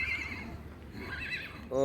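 A horse whinnies in a stable housing native Indian breeds such as Marwari and Kathiyawadi horses, its wavering high cry rising twice over steady background noise and a faint voice.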